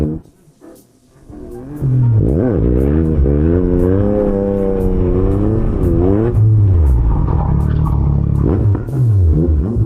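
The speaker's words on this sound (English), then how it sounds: "But they also come here to drift." Cars drifting in circles at an open practice spot, engines revving hard and rising and falling in pitch continuously, loud and close, with tires and exhaust rumbling throughout.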